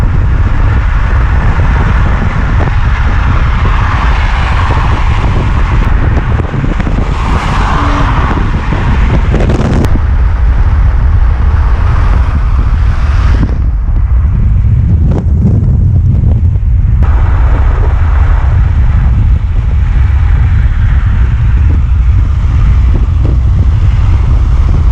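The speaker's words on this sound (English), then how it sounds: "Just went for the ride in the Supra." A right-hand-drive Toyota MK4 Supra heard from inside while driving, a loud continuous engine and road roar with heavy wind buffeting on the microphone, rising and shifting in pitch with no voices.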